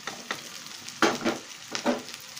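Boiled vegetables and rice sizzle in a hot frying pan for fried rice, with a steady hiss and a few louder scraping stirs; no one speaks.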